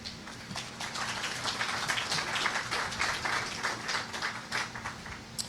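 An audience at a civic announcement about the former Packard Plant site in Detroit claps steadily for several seconds, a dense, even patter of many hands heard up close.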